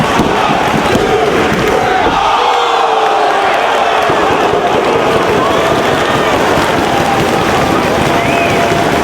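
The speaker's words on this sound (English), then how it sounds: "You hear the fans voicing their hatred for Jack Evans." A wrestling arena crowd in Chicago chants loudly at a ring of honor show, a dense roar of many voices filling the space continuously, with a sustained swell of yelling throughout.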